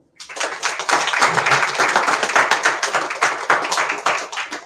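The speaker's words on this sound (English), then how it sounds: "For that, I want everybody to clap for it." A classroom group claps for a student presenter after a mechanical engineering slide presentation, a dense, steady patter of many hands close by, running for several seconds before thinning out at the end.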